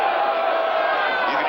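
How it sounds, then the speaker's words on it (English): A large football stadium crowd at a 1981 Chiefs at Raiders game roars steadily as a first-down measurement is made, a dense, sustained cheer filling the whole moment with no break. "You can hear the crowd go."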